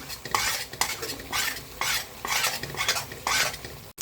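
Mint and coriander thokku fries in oil in a pan while a spoon stirs it in steady, repeated strokes, each scrape rising over a continuous close sizzle.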